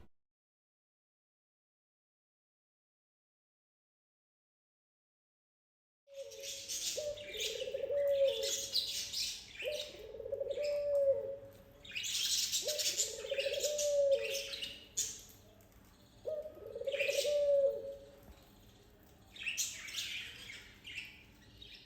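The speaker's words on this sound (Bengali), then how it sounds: "আপনি কিন্তু সব সময় আমার বাসায় আসলে এরকম পাখির কিচিরমিচির আওয়াজ শুনতে পাবেন।" Pet budgerigars and doves in a bedroom corner chirp in repeated bursts, each a cluster of bright twittering over a soft low cooing, recurring every couple of seconds and starting abruptly after several seconds of silence.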